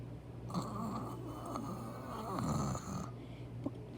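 A voice imitates snoring as a beatbox sound, a close, rasping, sustained throat rattle lasting a few seconds with slight rises in intensity.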